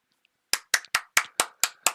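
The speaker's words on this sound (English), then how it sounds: "I'm giving you applause." One man claps his hands alone, seven sharp, close claps in a steady, slightly uneven rhythm after a brief near-silence, each crack ringing off quickly.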